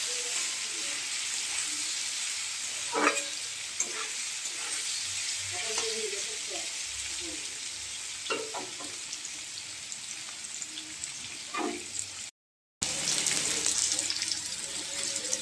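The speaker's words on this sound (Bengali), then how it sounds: "আলুগুলো দিয়ে দেবো, আর এইভাবে আলুগুলো কিছুক্ষণ কষাতে থাকবে।" Potatoes for alu posto frying and being stirred in a pan, a steady sizzle throughout with occasional scraping clicks from the stirring, close and moderately loud, with a brief gap near the end.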